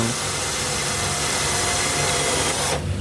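A power drill with an ordinary bit bores into an old cracked wooden table, a loud, steady whirring grind that runs without pause and then cuts off abruptly near the end.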